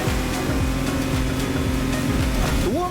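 Motorboats racing on the ocean in the video game The Crew Motorfest, a loud continuous engine drone with rising pitch sweeps near the end, over water noise.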